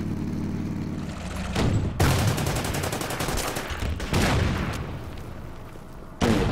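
Artillery and gunfire from the Order of Battle strategy game's Burma Road campaign: several sharp, loud blasts arrive at irregular intervals, each followed by a rumbling decay, heard alone.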